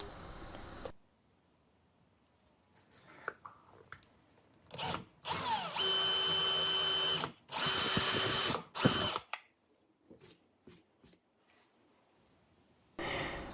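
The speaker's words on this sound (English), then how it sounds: "we go in with a small pilot hole before going in with the main drill" A power drill bores a hole through a drill guide, running in a few long loud bursts between stops and short spins, with quiet gaps, handling clicks and a final short whir.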